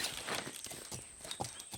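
Horse hooves clip-clop at a walking pace, a mare moving steadily over ground, moderately loud and close, with a soft whinny-like tone and no talking.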